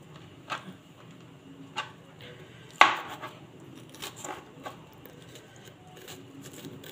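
A knife chopping peppers on a board in a home kitchen, a few sparse, faint, sharp taps with one clearer chop in the middle and quiet gaps between.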